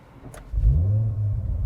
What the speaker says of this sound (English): So we'll just start the car up.